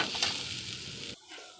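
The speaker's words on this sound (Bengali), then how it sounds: "ততক্ষণে আলুটা আমরা ভাজছি" Potato pieces sizzle in hot oil in a pan with seasoning, a steady close hiss that drops away abruptly near the end, leaving a softer low crackle.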